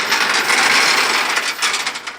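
Ratchet binders tighten chains holding a new S790 combine on a trailer: a steady, loud run of rapid metallic clicks, close by, with no talking.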